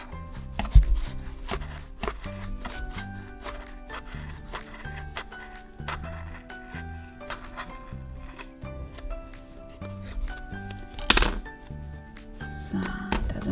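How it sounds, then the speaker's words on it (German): Scissors snip through a wool pompom held on a cardboard template, cutting along the card edge in a steady run of crisp, close clicks and rustles with a few louder chops, no talking. "Ich nehme jetzt meine Schere, gehe hier einmal wirklich direkt an der Pappe entlang und schneide die erste Seite auf."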